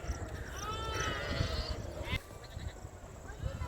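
Sheep bleat at a herders' camp in Rajasthan among a flock of about five hundred, several overlapping calls close by over low camp noise, with a voice briefly heard.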